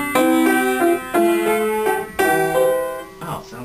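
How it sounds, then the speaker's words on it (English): Out-of-tune piano notes and chords played at a moderate pace, sounding slightly sour and wavering, ending with a brief voice-like sound. "Have you ever heard a piano that's out of tune?"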